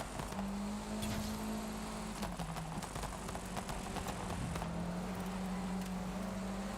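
A Peugeot 205 engine in the racing game Forza Horizon 5, climbing a hill with a steady droning tone that dips and rises, accompanied by irregular clicks and knocks.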